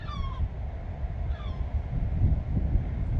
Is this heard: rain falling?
no